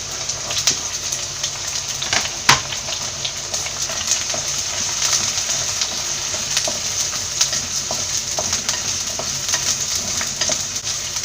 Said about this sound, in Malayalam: ചെറുതായിട്ടൊന്ന് വഴറ്റിയെടുക്കാം